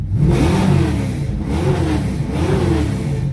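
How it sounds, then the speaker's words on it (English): The engine of a second-generation Camaro/Firebird with an automatic transmission revs repeatedly, rising and falling in three smooth swells over a loud, steady running rumble, heard close up. "I'll show you here if I rev it up."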